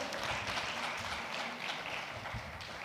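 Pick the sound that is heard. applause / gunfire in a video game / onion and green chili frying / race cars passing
applause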